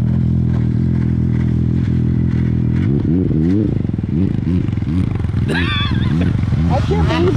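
Stock-tuned snowmobile with a muffler revving up hard, loud and close, with rising and falling engine pitch sweeps and a steady low drone, while people talk and shout over it.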